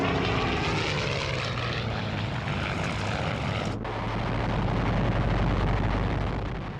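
WWII RAF propeller aircraft passing overhead with a loud, sustained droning engine roar that stays strong throughout, alone without voices.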